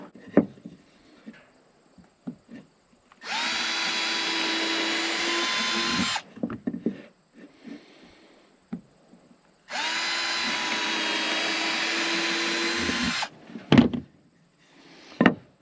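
A power drill drives screws to fix a perch onto the top of a raptor pole, in two loud, sustained whirring bursts of about three seconds each, separated by soft handling knocks, with no talking.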